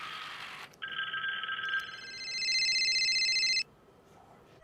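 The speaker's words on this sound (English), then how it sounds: "Let me give him a call here." A telephone rings on the line while a call is placed to a farm, a steady electronic tone that rises in pitch midway and then stops, moderately loud with no one talking.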